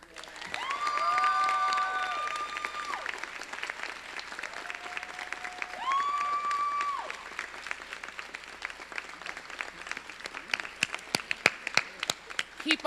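Sustained applause from a graduation ceremony audience honoring an award winner, a dense steady clapping crowd with whoops and cheers rising over it, thinning into sharper scattered claps toward the end.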